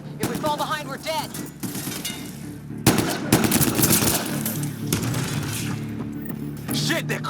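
Enemy gunfire in Mass Effect Andromeda rattles in rapid bursts with a heavy impact near the middle, mixed with explosions and debris while voices speak over the combat.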